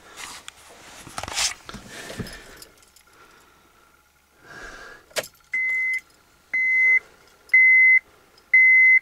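A car engine is cranked without catching at minus 7 degrees in Călărași, Moldova: several bursts of starter whirring early on, then a run of loud, evenly spaced electronic dashboard beeps toward the end.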